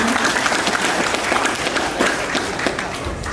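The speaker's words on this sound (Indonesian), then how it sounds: "Tepuk tangan dulu dong buat bapak-bapak ini" An audience at a university talk show on campus breaks into dense, continuous clapping, heard up close with a brief murmur of voices mixed in.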